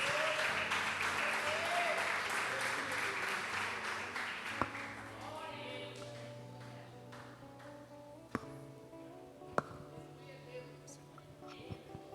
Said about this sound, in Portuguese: Que as palmas louvem ao nosso Deus.